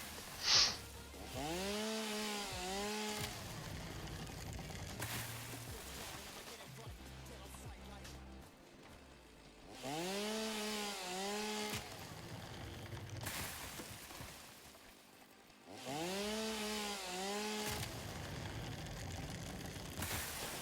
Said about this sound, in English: chainsaw usage.